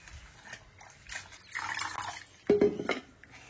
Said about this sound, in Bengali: আর এখন শাক ধোবো।